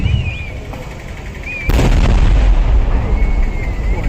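Vedikkettu temple fireworks going off at Puthiyakavu temple, heavy booming blasts that thud in suddenly and roll on in continuous rumbling fire, loud and fairly close under faint crowd noise.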